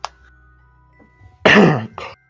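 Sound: coughing to clear throat

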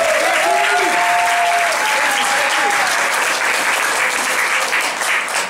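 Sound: applause

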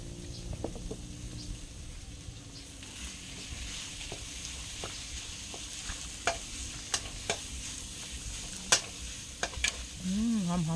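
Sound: stir-frying pork

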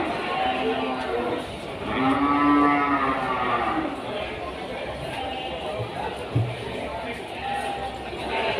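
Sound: cattle mooing at Kliwon livestock market, Kudus

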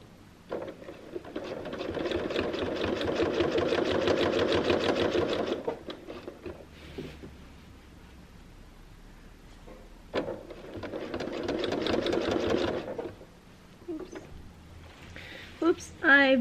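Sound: sewing machine free motion quilting with ruler foot

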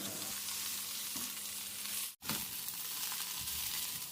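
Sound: stir-frying pickled mustard greens in oil

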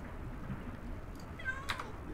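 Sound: cat meowing in video game Minecraft

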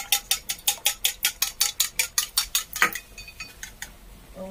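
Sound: beating an egg with a utensil

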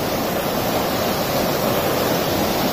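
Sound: river flowing

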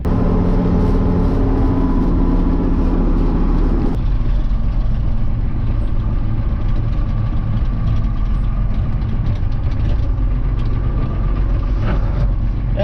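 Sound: Fortschritt tractor engine

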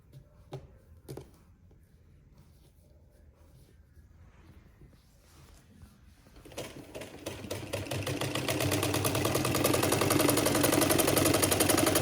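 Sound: sewing machine stitching a homemade scarf

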